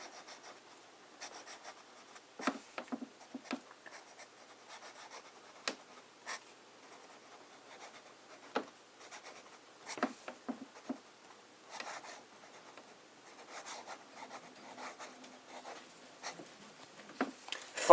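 A pen writes on paper with Montblanc Winter Glow ink, giving soft, close scratching strokes and light taps in irregular bursts against a quiet background, with occasional faint speech.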